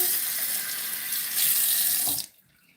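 Water runs from a tap to moisten hard-shell sunflower seeds for germination: a loud, steady, close gush that cuts off abruptly near the end.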